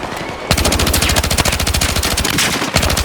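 Submachine gun fire in the video game Battlefield 6, a loud, close, continuous rapid burst of shots with an even rhythm lasting a few seconds, with no voices.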